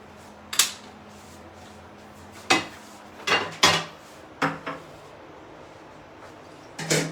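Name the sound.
frying pan being placed on the stove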